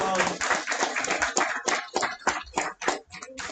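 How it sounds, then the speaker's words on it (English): A small crowd at a barber bootcamp graduation ceremony claps, scattered, uneven hand claps close by, with talking mixed in. "Give a round of applause."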